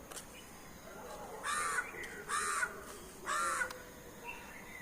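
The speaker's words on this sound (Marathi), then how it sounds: "आता कावळा तर आहेच कावळा" Three loud, harsh crow caws spaced about a second apart, close by, over a quiet background hum.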